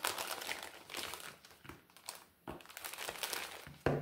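Plastic packaging and small bags of craft supplies, including Versafine ink, crinkle and rustle in bursts as they are unwrapped close by, quiet and irregular, with no speech.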